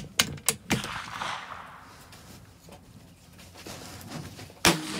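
Sharp rifle shots crack out at an outdoor rifle match, a few quick reports close together at the start and another single loud shot near the end, with quieter background noise between.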